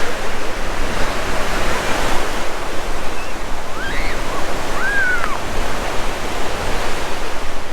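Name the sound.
ocean waves on Silver Strand Beach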